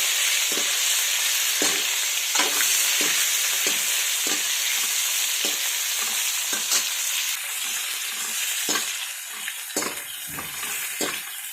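Stuffed brinjals sautéing in oil in a pan, a steady loud sizzle broken by repeated scraping stirs at a fairly even rhythm, close up with no talking.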